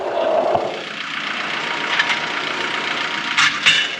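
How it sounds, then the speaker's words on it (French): A tractor engine runs steadily up close with a low, even idle rumble, broken by a few brief clanks and bursts of noise. "la bonbonne sur le tracteur dans lequel je suis"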